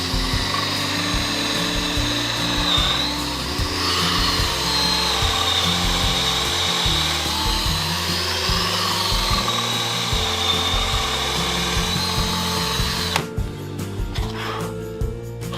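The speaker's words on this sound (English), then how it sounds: "I then bored some holes in each leg with a speed borer" Speed borer cutting holes into chunky wooden bed legs, a steady loud whirring drill drone with pulsing ratchety chatter running continuously, then stopping abruptly near the end, followed by a short burst of scraping.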